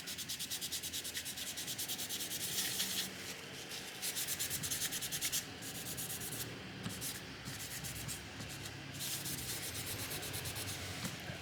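Cloth wiping old, crusty thermal paste off a Gigabyte 660 Ti 3GB graphics card chip, a steady close rubbing scrape that pauses briefly a few times, with no talking.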